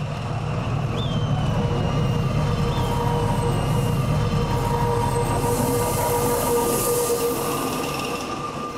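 A tourist train crosses the Socavón bridge near Ambato in Ecuador with a continuous, loud rumble of wheels on rails. Faint squeals and clatter rise over the steady roar, and no one talks.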